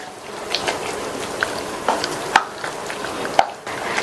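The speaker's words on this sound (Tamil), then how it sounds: "ஆன் பண்ணிட்டு நல்லா கலந்து விட்டுருங்க." Scraping and stirring of a vegetable kootu in a pan over a soft sizzle, with a few sharp clinks of a utensil against the metal and no talking.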